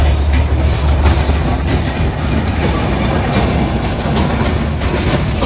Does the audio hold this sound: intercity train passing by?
yes